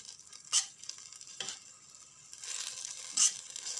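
A wooden spoon stirs vegetable and fish soup in a pot, soft scraping swishes with a few sharper knocks against the pot and a faint bubbling sizzle underneath.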